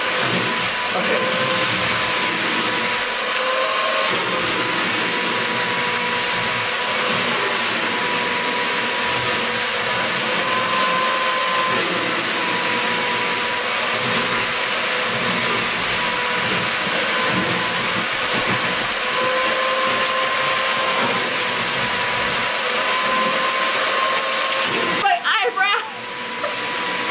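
A household vacuum cleaner runs as a hair dryer, a steady loud roar with airy hiss that holds for nearly the whole stretch, cutting off abruptly near the end; a voice exclaims briefly over it.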